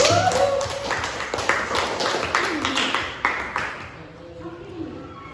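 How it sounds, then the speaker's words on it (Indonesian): Students in an Indonesian school classroom clap for each presentation group, a brisk burst of close, dense clapping with voices mixed in that thins out and fades toward the end. "Oke, berikan aplaus yang meriah untuk setiap kelompok."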